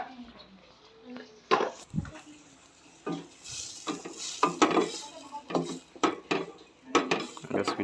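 A utensil stirs cream into chicken Alfredo pasta sauce in a pan, making intermittent scraping and clinking knocks against the metal at an uneven pace over a quiet, faint simmer.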